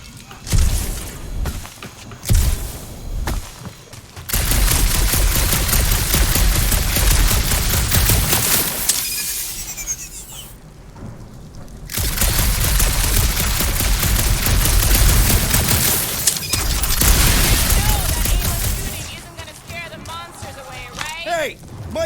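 Sustained rapid gunfire rattles in a dark cave in the video game Marvel's Guardians of the Galaxy, loud dense bursts broken by a few short pauses, with occasional voices mixed in.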